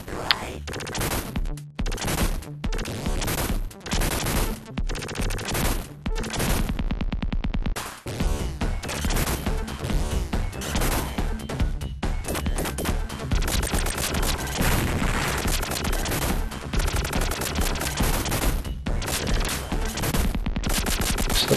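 Rapid, dense gunfire fills the Sega Mega Drive run-and-gun game Contra: Hard Corps during a biker-gang chase, continuous and loud with layered shots, blasts and crashes and only one short lull.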